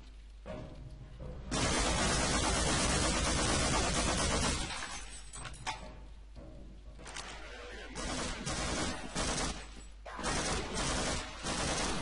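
MP5 submachine gun with grenade launcher firing in Half-Life, long sustained automatic bursts separated by short pauses, loud and close.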